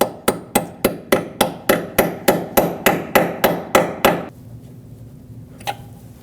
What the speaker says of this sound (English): I'm going to hammer in a 6mm Allen socket.